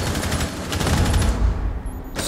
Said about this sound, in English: So a lot of gunfire coming out.